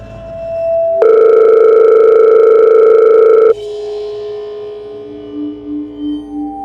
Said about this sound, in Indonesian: Lamunan Tata pun buyar ketika dia menerima sebuah telepon dari temannya.